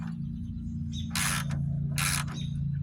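A ratchet tightens a bolt on a 2009 Hyundai Santa Fe accident car under repair. Two short, sharp bursts of clicking ring out about a second apart over a steady low hum.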